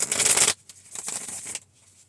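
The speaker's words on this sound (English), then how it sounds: "One more shuffle." A quick riffle of cards being shuffled, a sharp burst of flicking followed by a softer second round of shuffling.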